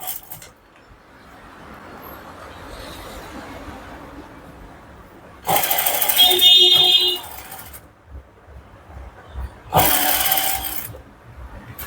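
A small sewing machine with a normal foot stitches thread piping in two short, loud whirring bursts separated by quieter pauses, the second burst briefer than the first.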